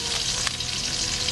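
Chopped onion frying with oil and salt in a saucepan, a loud, steady sizzle heard close up with no voices.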